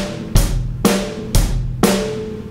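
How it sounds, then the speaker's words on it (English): A drum kit plays four evenly spaced, punchy hits alternating kick and snare with hi-hat, loud and close. "So it's kick and hi-hat, snare and hi-hat"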